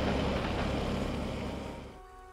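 Video game water in Empyrion: a broad wash of rushing, surf-like water noise, fairly loud and steady before fading toward the end, with no voices over it.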